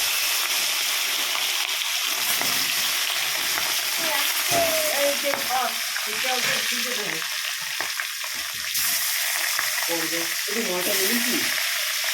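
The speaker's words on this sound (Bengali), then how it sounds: "মাছটা ভাজি আস্তে আস্তে" Fish frying in hot oil in a home kitchen, a steady bright sizzle running throughout with occasional stirring clatters and a voice speaking over it.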